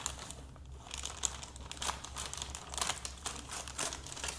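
Plastic packaging around a fixing spray crinkles and rustles steadily as it is worked open with scissors, close and continuous with small sharp crackles and snips.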